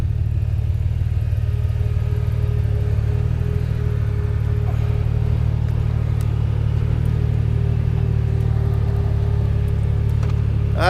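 A custom motorcycle engine drones steadily on a night ride, a loud, even low hum that holds constant throughout with no talking.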